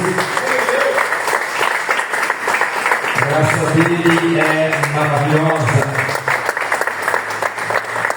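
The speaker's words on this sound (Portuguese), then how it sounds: "Volte para o seu lugar, aplaudindo bem forte ao Senhor Jesus." A church congregation at an evening family service applauds loudly for Jesus, dense clapping running throughout while a voice speaks and sings over it in the second half.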